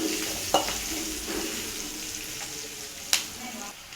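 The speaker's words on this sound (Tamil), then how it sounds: "மிளகு, சீரகம், மல்லி தட்டி வச்சுருக்கேன் இல்லையா, அதை போட்டுக்கலாம். நல்லா கிளறிக்கலாம்." Crushed pepper, cumin and coriander stirred into small onions frying in a pan, a low steady sizzle with occasional sharp clacks of the spoon against the pan.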